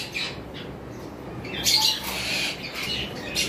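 Double-wing lovebirds in a collection give sharp squawks and chirps in brief bursts, moderately close, over a steady background hiss with no talk.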